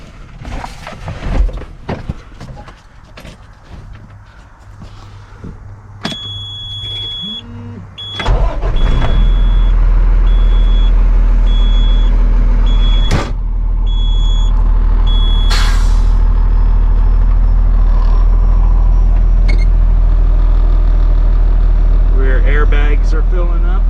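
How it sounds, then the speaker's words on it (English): A flatbed straight truck's diesel engine cranks and catches about eight seconds in, then settles into a loud, steady close-up idle rumble with a few clicks and hisses, after some shuffling and speech before the start. "we'll start the truck up, make sure all is good."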